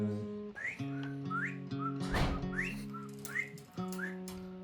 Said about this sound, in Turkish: ben ıslık çaldım